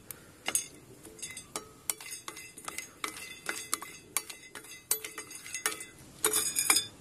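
Civet coffee beans roasting in a pan at home make dry, scattered clinks and rattles as they are stirred, with irregular bursts of sharp ticks and a denser clatter near the end.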